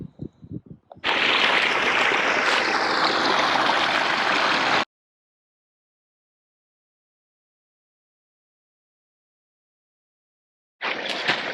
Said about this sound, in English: We have water to our location and it's coming down.